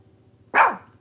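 A single sharp bark from a pet dog indoors, loud and close, rising abruptly over a low background hum and fading within a fraction of a second.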